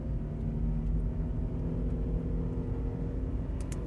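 A Mazda MPV minivan accelerates hard toward 100, a steady low engine drone and road rumble heard from inside the cabin, without talk.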